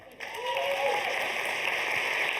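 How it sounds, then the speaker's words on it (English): Audience applause at a tech conference for the MC, rising quickly from quiet into steady, moderately loud clapping that holds to the end, with a faint voice-like tone at the start. "can we have a huge round of applause for Sarah for being an amazing MC?"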